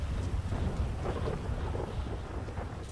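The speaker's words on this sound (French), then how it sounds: "Vous allez rester sous l'orage, vous voulez pas vous mettre à l'abri les gars?" A thunderstorm in the video game GTA rumbles low and steady, with rain and wind noise filling the scene for a few seconds and no voices.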